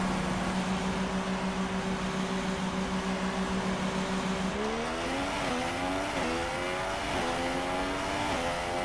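Formula 1 race car in the F1 2016 game, heard first as a steady idling engine hum, then revving up through rising, shifting engine tones as it heads out to the track.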